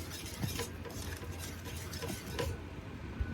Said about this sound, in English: I'm just gonna concentrate on the mixing vigorously.